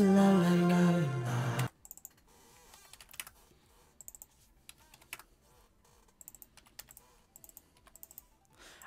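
Typing on a computer keyboard follows a short burst of sung synthetic vocal. Sparse clusters of crisp, close key clicks come in irregular bursts with quiet gaps between them.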